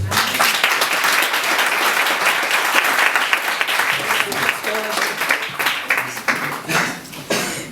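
Congregation at a religious church wedding ceremony breaking into loud, sustained applause and clapping that fades gradually toward the end, with voices and cheering mixed in.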